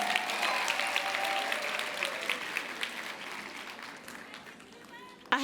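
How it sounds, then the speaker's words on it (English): Applause rings out from an audience honouring a person just off stage, steady clapping that gradually thins and fades over several seconds before a voice breaks in at the end. "Another round of applause for that amazing soul."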